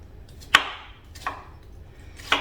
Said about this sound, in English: So let's cut this up.